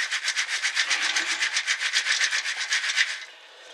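Coarse all-purpose potting compost is shaken through a garden sieve in a quick, steady run of about twenty rasping strokes, close by and fairly loud, stopping abruptly near the end.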